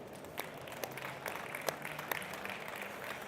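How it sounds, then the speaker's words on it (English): An audience at a sim racing expo applauds a race winner, a faint, steady spread of clapping heard from a distance with a few sharper claps standing out. "So we can give him a round of applause"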